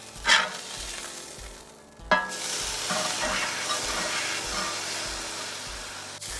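An umami burger patty hits a hot pan after being flipped, a sharp burst of loud sizzling that settles into a steady, close hiss, with a rhythmic low thumping running beneath.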